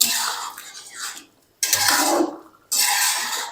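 Beef pieces with turmeric and other spices frying in a karahi, giving bursts of loud broadband sizzling and scraping that come in three stirring spells with short quiet gaps between them.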